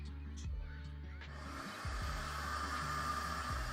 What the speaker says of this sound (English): Oh, we're gonna have a vacuum going,